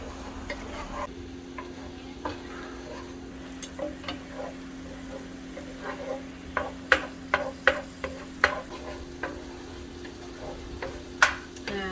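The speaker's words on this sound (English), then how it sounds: "Just make sure you saute your onion for maybe like 2 minutes, 2 or 3 minutes." Onion sautéing in melted butter over medium heat for a poblano shrimp Alfredo pasta, a soft continuous sizzle with a low hum and a run of crisp spoon taps and scrapes, busiest in the middle.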